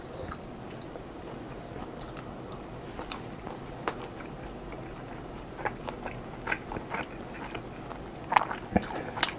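Someone eats German-style handmade ham with Hoegaarden beer, giving soft close chewing and biting with occasional sharper crunches and small clinks over quiet background hiss.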